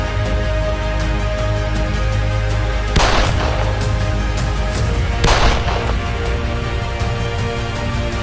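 Two sharp gunshot bangs ring out at a wedding stage in Buxar, Bihar, roughly two seconds apart, over a steady loud background din of the celebration.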